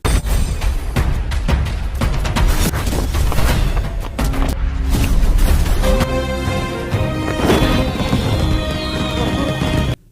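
Dense, continuous booming bursts and crackling blasts of video game fireworks fill the clip, with bright showers overhead and layered music-like tones, loud throughout as a firework display rages.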